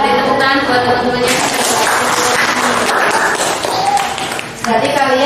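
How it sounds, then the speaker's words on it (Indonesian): Students in a classroom at an Indonesian Islamic junior high school applaud their classmates, a dense, steady patter of clapping that fills the room throughout, with voices mixed in underneath. "Beri tepuk tangan buat teman-temannya"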